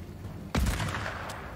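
A single loud gunshot cracks out close in a video game shooter match, then a short reverberant tail decays over low background game noise.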